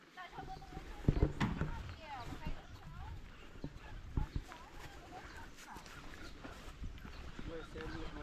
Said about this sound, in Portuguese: Brincar, dar comida para as galinhas, para os patinhos.